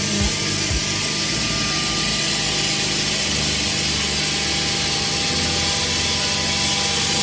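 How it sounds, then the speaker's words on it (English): A vacuum lubricating oil purifier's oil pump runs with a steady, loud mechanical whine and hum, unchanging throughout with no talk. "This oil pump is working."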